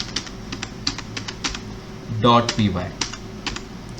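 Keys clatter on a computer keyboard as a Python file name is typed, a steady run of light, close clicks with a brief burst of voice in the middle.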